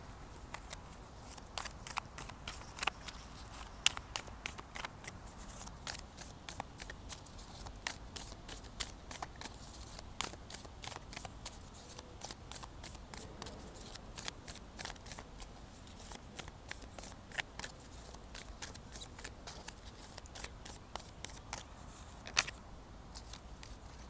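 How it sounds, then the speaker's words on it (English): Starseed Oracle cards are shuffled and pulled with quiet, rapid papery riffles and flicks that repeat almost continuously at close range, with no talk. "Let's pull some cards from the Starseed Oracle."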